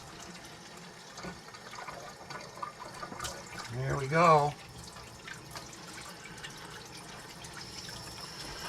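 Cold tap water fills a container at a fishing camp for a water test: a brief rising gurgle and splash close by, mid-clip, with a few words spoken around it over low background noise.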